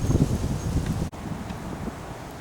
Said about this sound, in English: I'm going in because this wind is changing too.